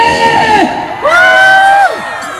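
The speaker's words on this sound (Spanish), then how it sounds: "¡Un grito a los hombres!" A crowd of men at a rodeo jaripeo festival in Las Peñas, Chalatenango, bursts into loud, sustained shouts and whoops in two swelling waves, close and raucous.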